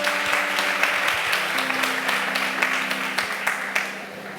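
A church congregation applauds in a broad, sustained wash of clapping, with overlapping hands and some voices underneath throughout.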